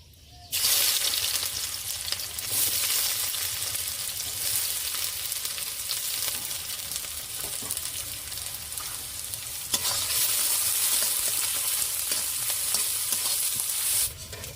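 Onions fry in oil with cinnamon, cardamom and cloves, giving a continuous close hiss and crackle with occasional stirring scrapes.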